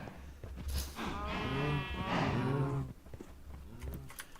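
Cows in a video game moo in long, drawn-out calls, one after another at close range, over a low steady hum, with no talking.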